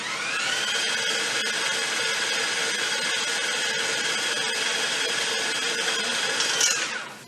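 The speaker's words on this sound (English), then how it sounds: "you want to cream that butter and that sugar, that's basically what we're doing here with the keto peanut butter cookies" An electric mixer creams butter and sugar for keto peanut butter cookies, a loud, steady, close whirring hum that runs without a break and cuts off at the end, with no talk.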